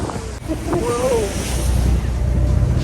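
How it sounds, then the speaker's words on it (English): Big ocean waves surge around a boat out at sea off Midcoast Maine, a loud rushing wash heavy with wind buffeting the microphone, with a brief voice and an exclamation in the first half. "There's some big waves."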